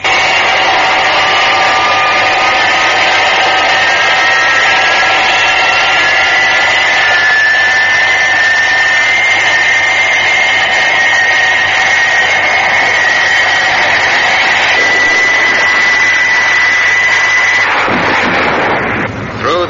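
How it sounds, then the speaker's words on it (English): A supersonic aircraft's jet engine screams loudly and continuously as it hurtles down a runway for takeoff in a 1990 Thunderbirds radio drama, a dense roaring whine with a rising tone that holds steady before tapering near the end. "The giant supersonic aircraft taxis down the runway, and then, its jet engine screaming, hurtles down the runway for a perfect takeoff."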